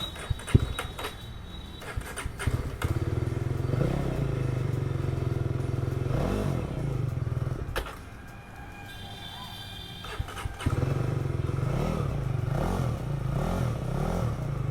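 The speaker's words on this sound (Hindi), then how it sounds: "बट आप पहले उससे एग्जॉस्ट साउंड सुन लो" A Jawa 42 Bobber motorcycle engine idles loudly with a throaty exhaust rumble, revving up briefly a few times before settling back.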